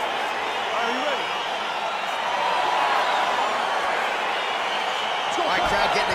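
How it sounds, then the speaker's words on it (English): An arena crowd roaring in the video game EA Sports UFC 4 as a heavyweight fight begins, with a steady broad cheering wash throughout and a voice talking over it. "crowd getting excited as this fight gets underway"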